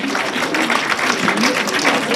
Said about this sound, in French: Vos applaudissements pour Dylan et Alicia, s'il vous plaît.